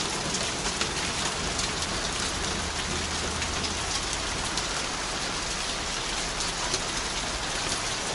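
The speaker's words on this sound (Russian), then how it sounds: "сильнейший ливень" A heavy rain downpour falls steadily and densely across the woods and grass, a constant close roar that holds from start to end, with no talking.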